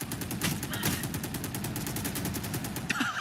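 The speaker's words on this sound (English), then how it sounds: "He's letting the bullets whiz by." Gunfire in the video game Valorant during a pro match, with rapid automatic bursts and sharp shots stacked densely over a constant roar, loud and continuous, with crowd or casters faintly underneath.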